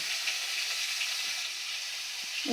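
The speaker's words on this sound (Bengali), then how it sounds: "মাছ ভাজা হচ্ছে" Fish sizzling in hot oil in a home kitchen pan, a steady, close crackling hiss that continues evenly without talk.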